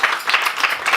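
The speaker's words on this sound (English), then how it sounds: "let's give this awesome brother a round of applause as he comes up" Crowd applause at a yoga talk, a dense, even patter of many hands clapping together, lively and continuous for a moment as a speaker comes up.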